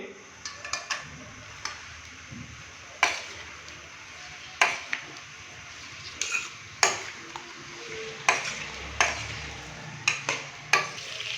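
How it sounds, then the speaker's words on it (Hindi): Beef fries in ghee in a pot with a soft sizzle, broken by repeated clicks and scrapes of stirring at an irregular rhythm, fairly quiet and close. "तो अभी घी के अंदर हम बीफ को तकरीबन 4 से 5 मिनट के लिए अच्छे से फ्राई करेंगे।"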